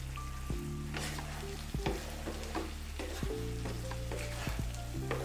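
Prawns roasting in Kerala-style masala gravy over a medium-to-low flame, a steady close sizzle broken by repeated scraping stirs against the pan, with a low electrical hum beneath and no voices.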